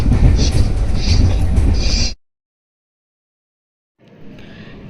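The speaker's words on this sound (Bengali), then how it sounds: "ট্রেন ছেড়ে দিয়েছে।" A moving passenger train rumbles loudly with a dense, low clatter, breaks off into a gap of silence, then returns more faintly.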